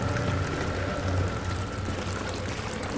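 Water pours steadily like a running shower in the horror game Amnesia: The Dark Descent, a continuous close splashing hiss with a low rumble underneath, alone and unbroken for the full three seconds.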